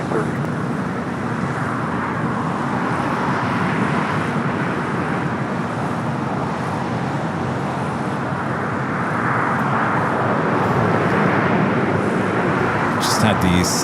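An Alaska Hawaiian A330-200 jet takes off from LAX's south side runway, a loud, steady broadband engine roar heard from a distance with faint road traffic mixed in.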